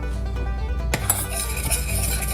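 A spoon stirs sorghum molasses and baking soda in a metal pot over medium heat, giving a sudden clink and scrape of utensil against the pot over a steady background hum, close and fairly loud, with no talking.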